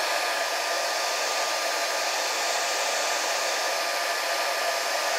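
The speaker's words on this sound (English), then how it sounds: "blow gun here is all you need to take out these wrinkles" A heat gun blowing hot air over the covering film on an F-1 Rocket model airplane to shrink out wrinkles, a loud, steady rushing hiss held close and unbroken throughout, with no speech.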